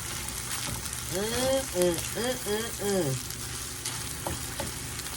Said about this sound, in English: Time to put the golden kernels in there, y'all. Let me get it stirred around, mixed up good.